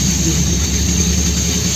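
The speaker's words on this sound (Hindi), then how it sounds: "आवाज सुन गाड़ी की, ये ब्रेक मार रही है।" A Pakistani train braking on its track, giving a loud, steady low rumble and grinding roar that fills the whole moment without pause.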